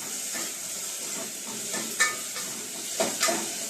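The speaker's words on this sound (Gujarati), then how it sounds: "કાંદા થોડાક શેકાઈ જાય" Onions frying in a pan for Gujarati oro (baingan bharta), giving a soft steady sizzle with a few brief stirring scrapes and clinks, fairly quiet and close, with no talking.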